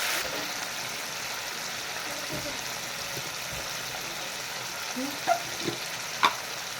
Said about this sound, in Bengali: আমি মাছের তেলটাকে ভেজে নেবো